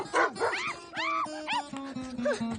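A dog in a Hindi horror-comedy film scene (Stree 2) gives a quick run of yips, whines and short barks, fairly close and loud, with faint background sound between the calls.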